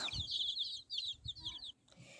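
Young chickens cheep and peep in rapid, high-pitched chirps, close by and continuous, with a few soft low clucks and brief pauses.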